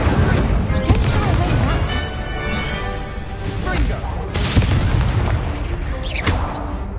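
Booming blasts and crackling bursts ring out as the Incendio fire spell is cast repeatedly in a Harry Potter video game, loud and dense, layered over game voices.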